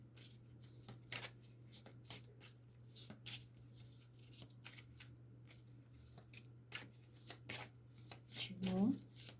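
A deck of cards is shuffled and handled in brisk, crisp riffles and snaps, close and fairly quiet, while a person talks now and then over a low steady hum.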